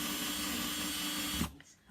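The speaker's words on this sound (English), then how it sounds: "Just gonna go ahead and drill the hole." A power drill boring a hole through a craft centerpiece, a steady whirring drone that runs continuously at close range before cutting off abruptly near the end.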